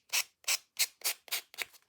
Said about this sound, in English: take that sanding block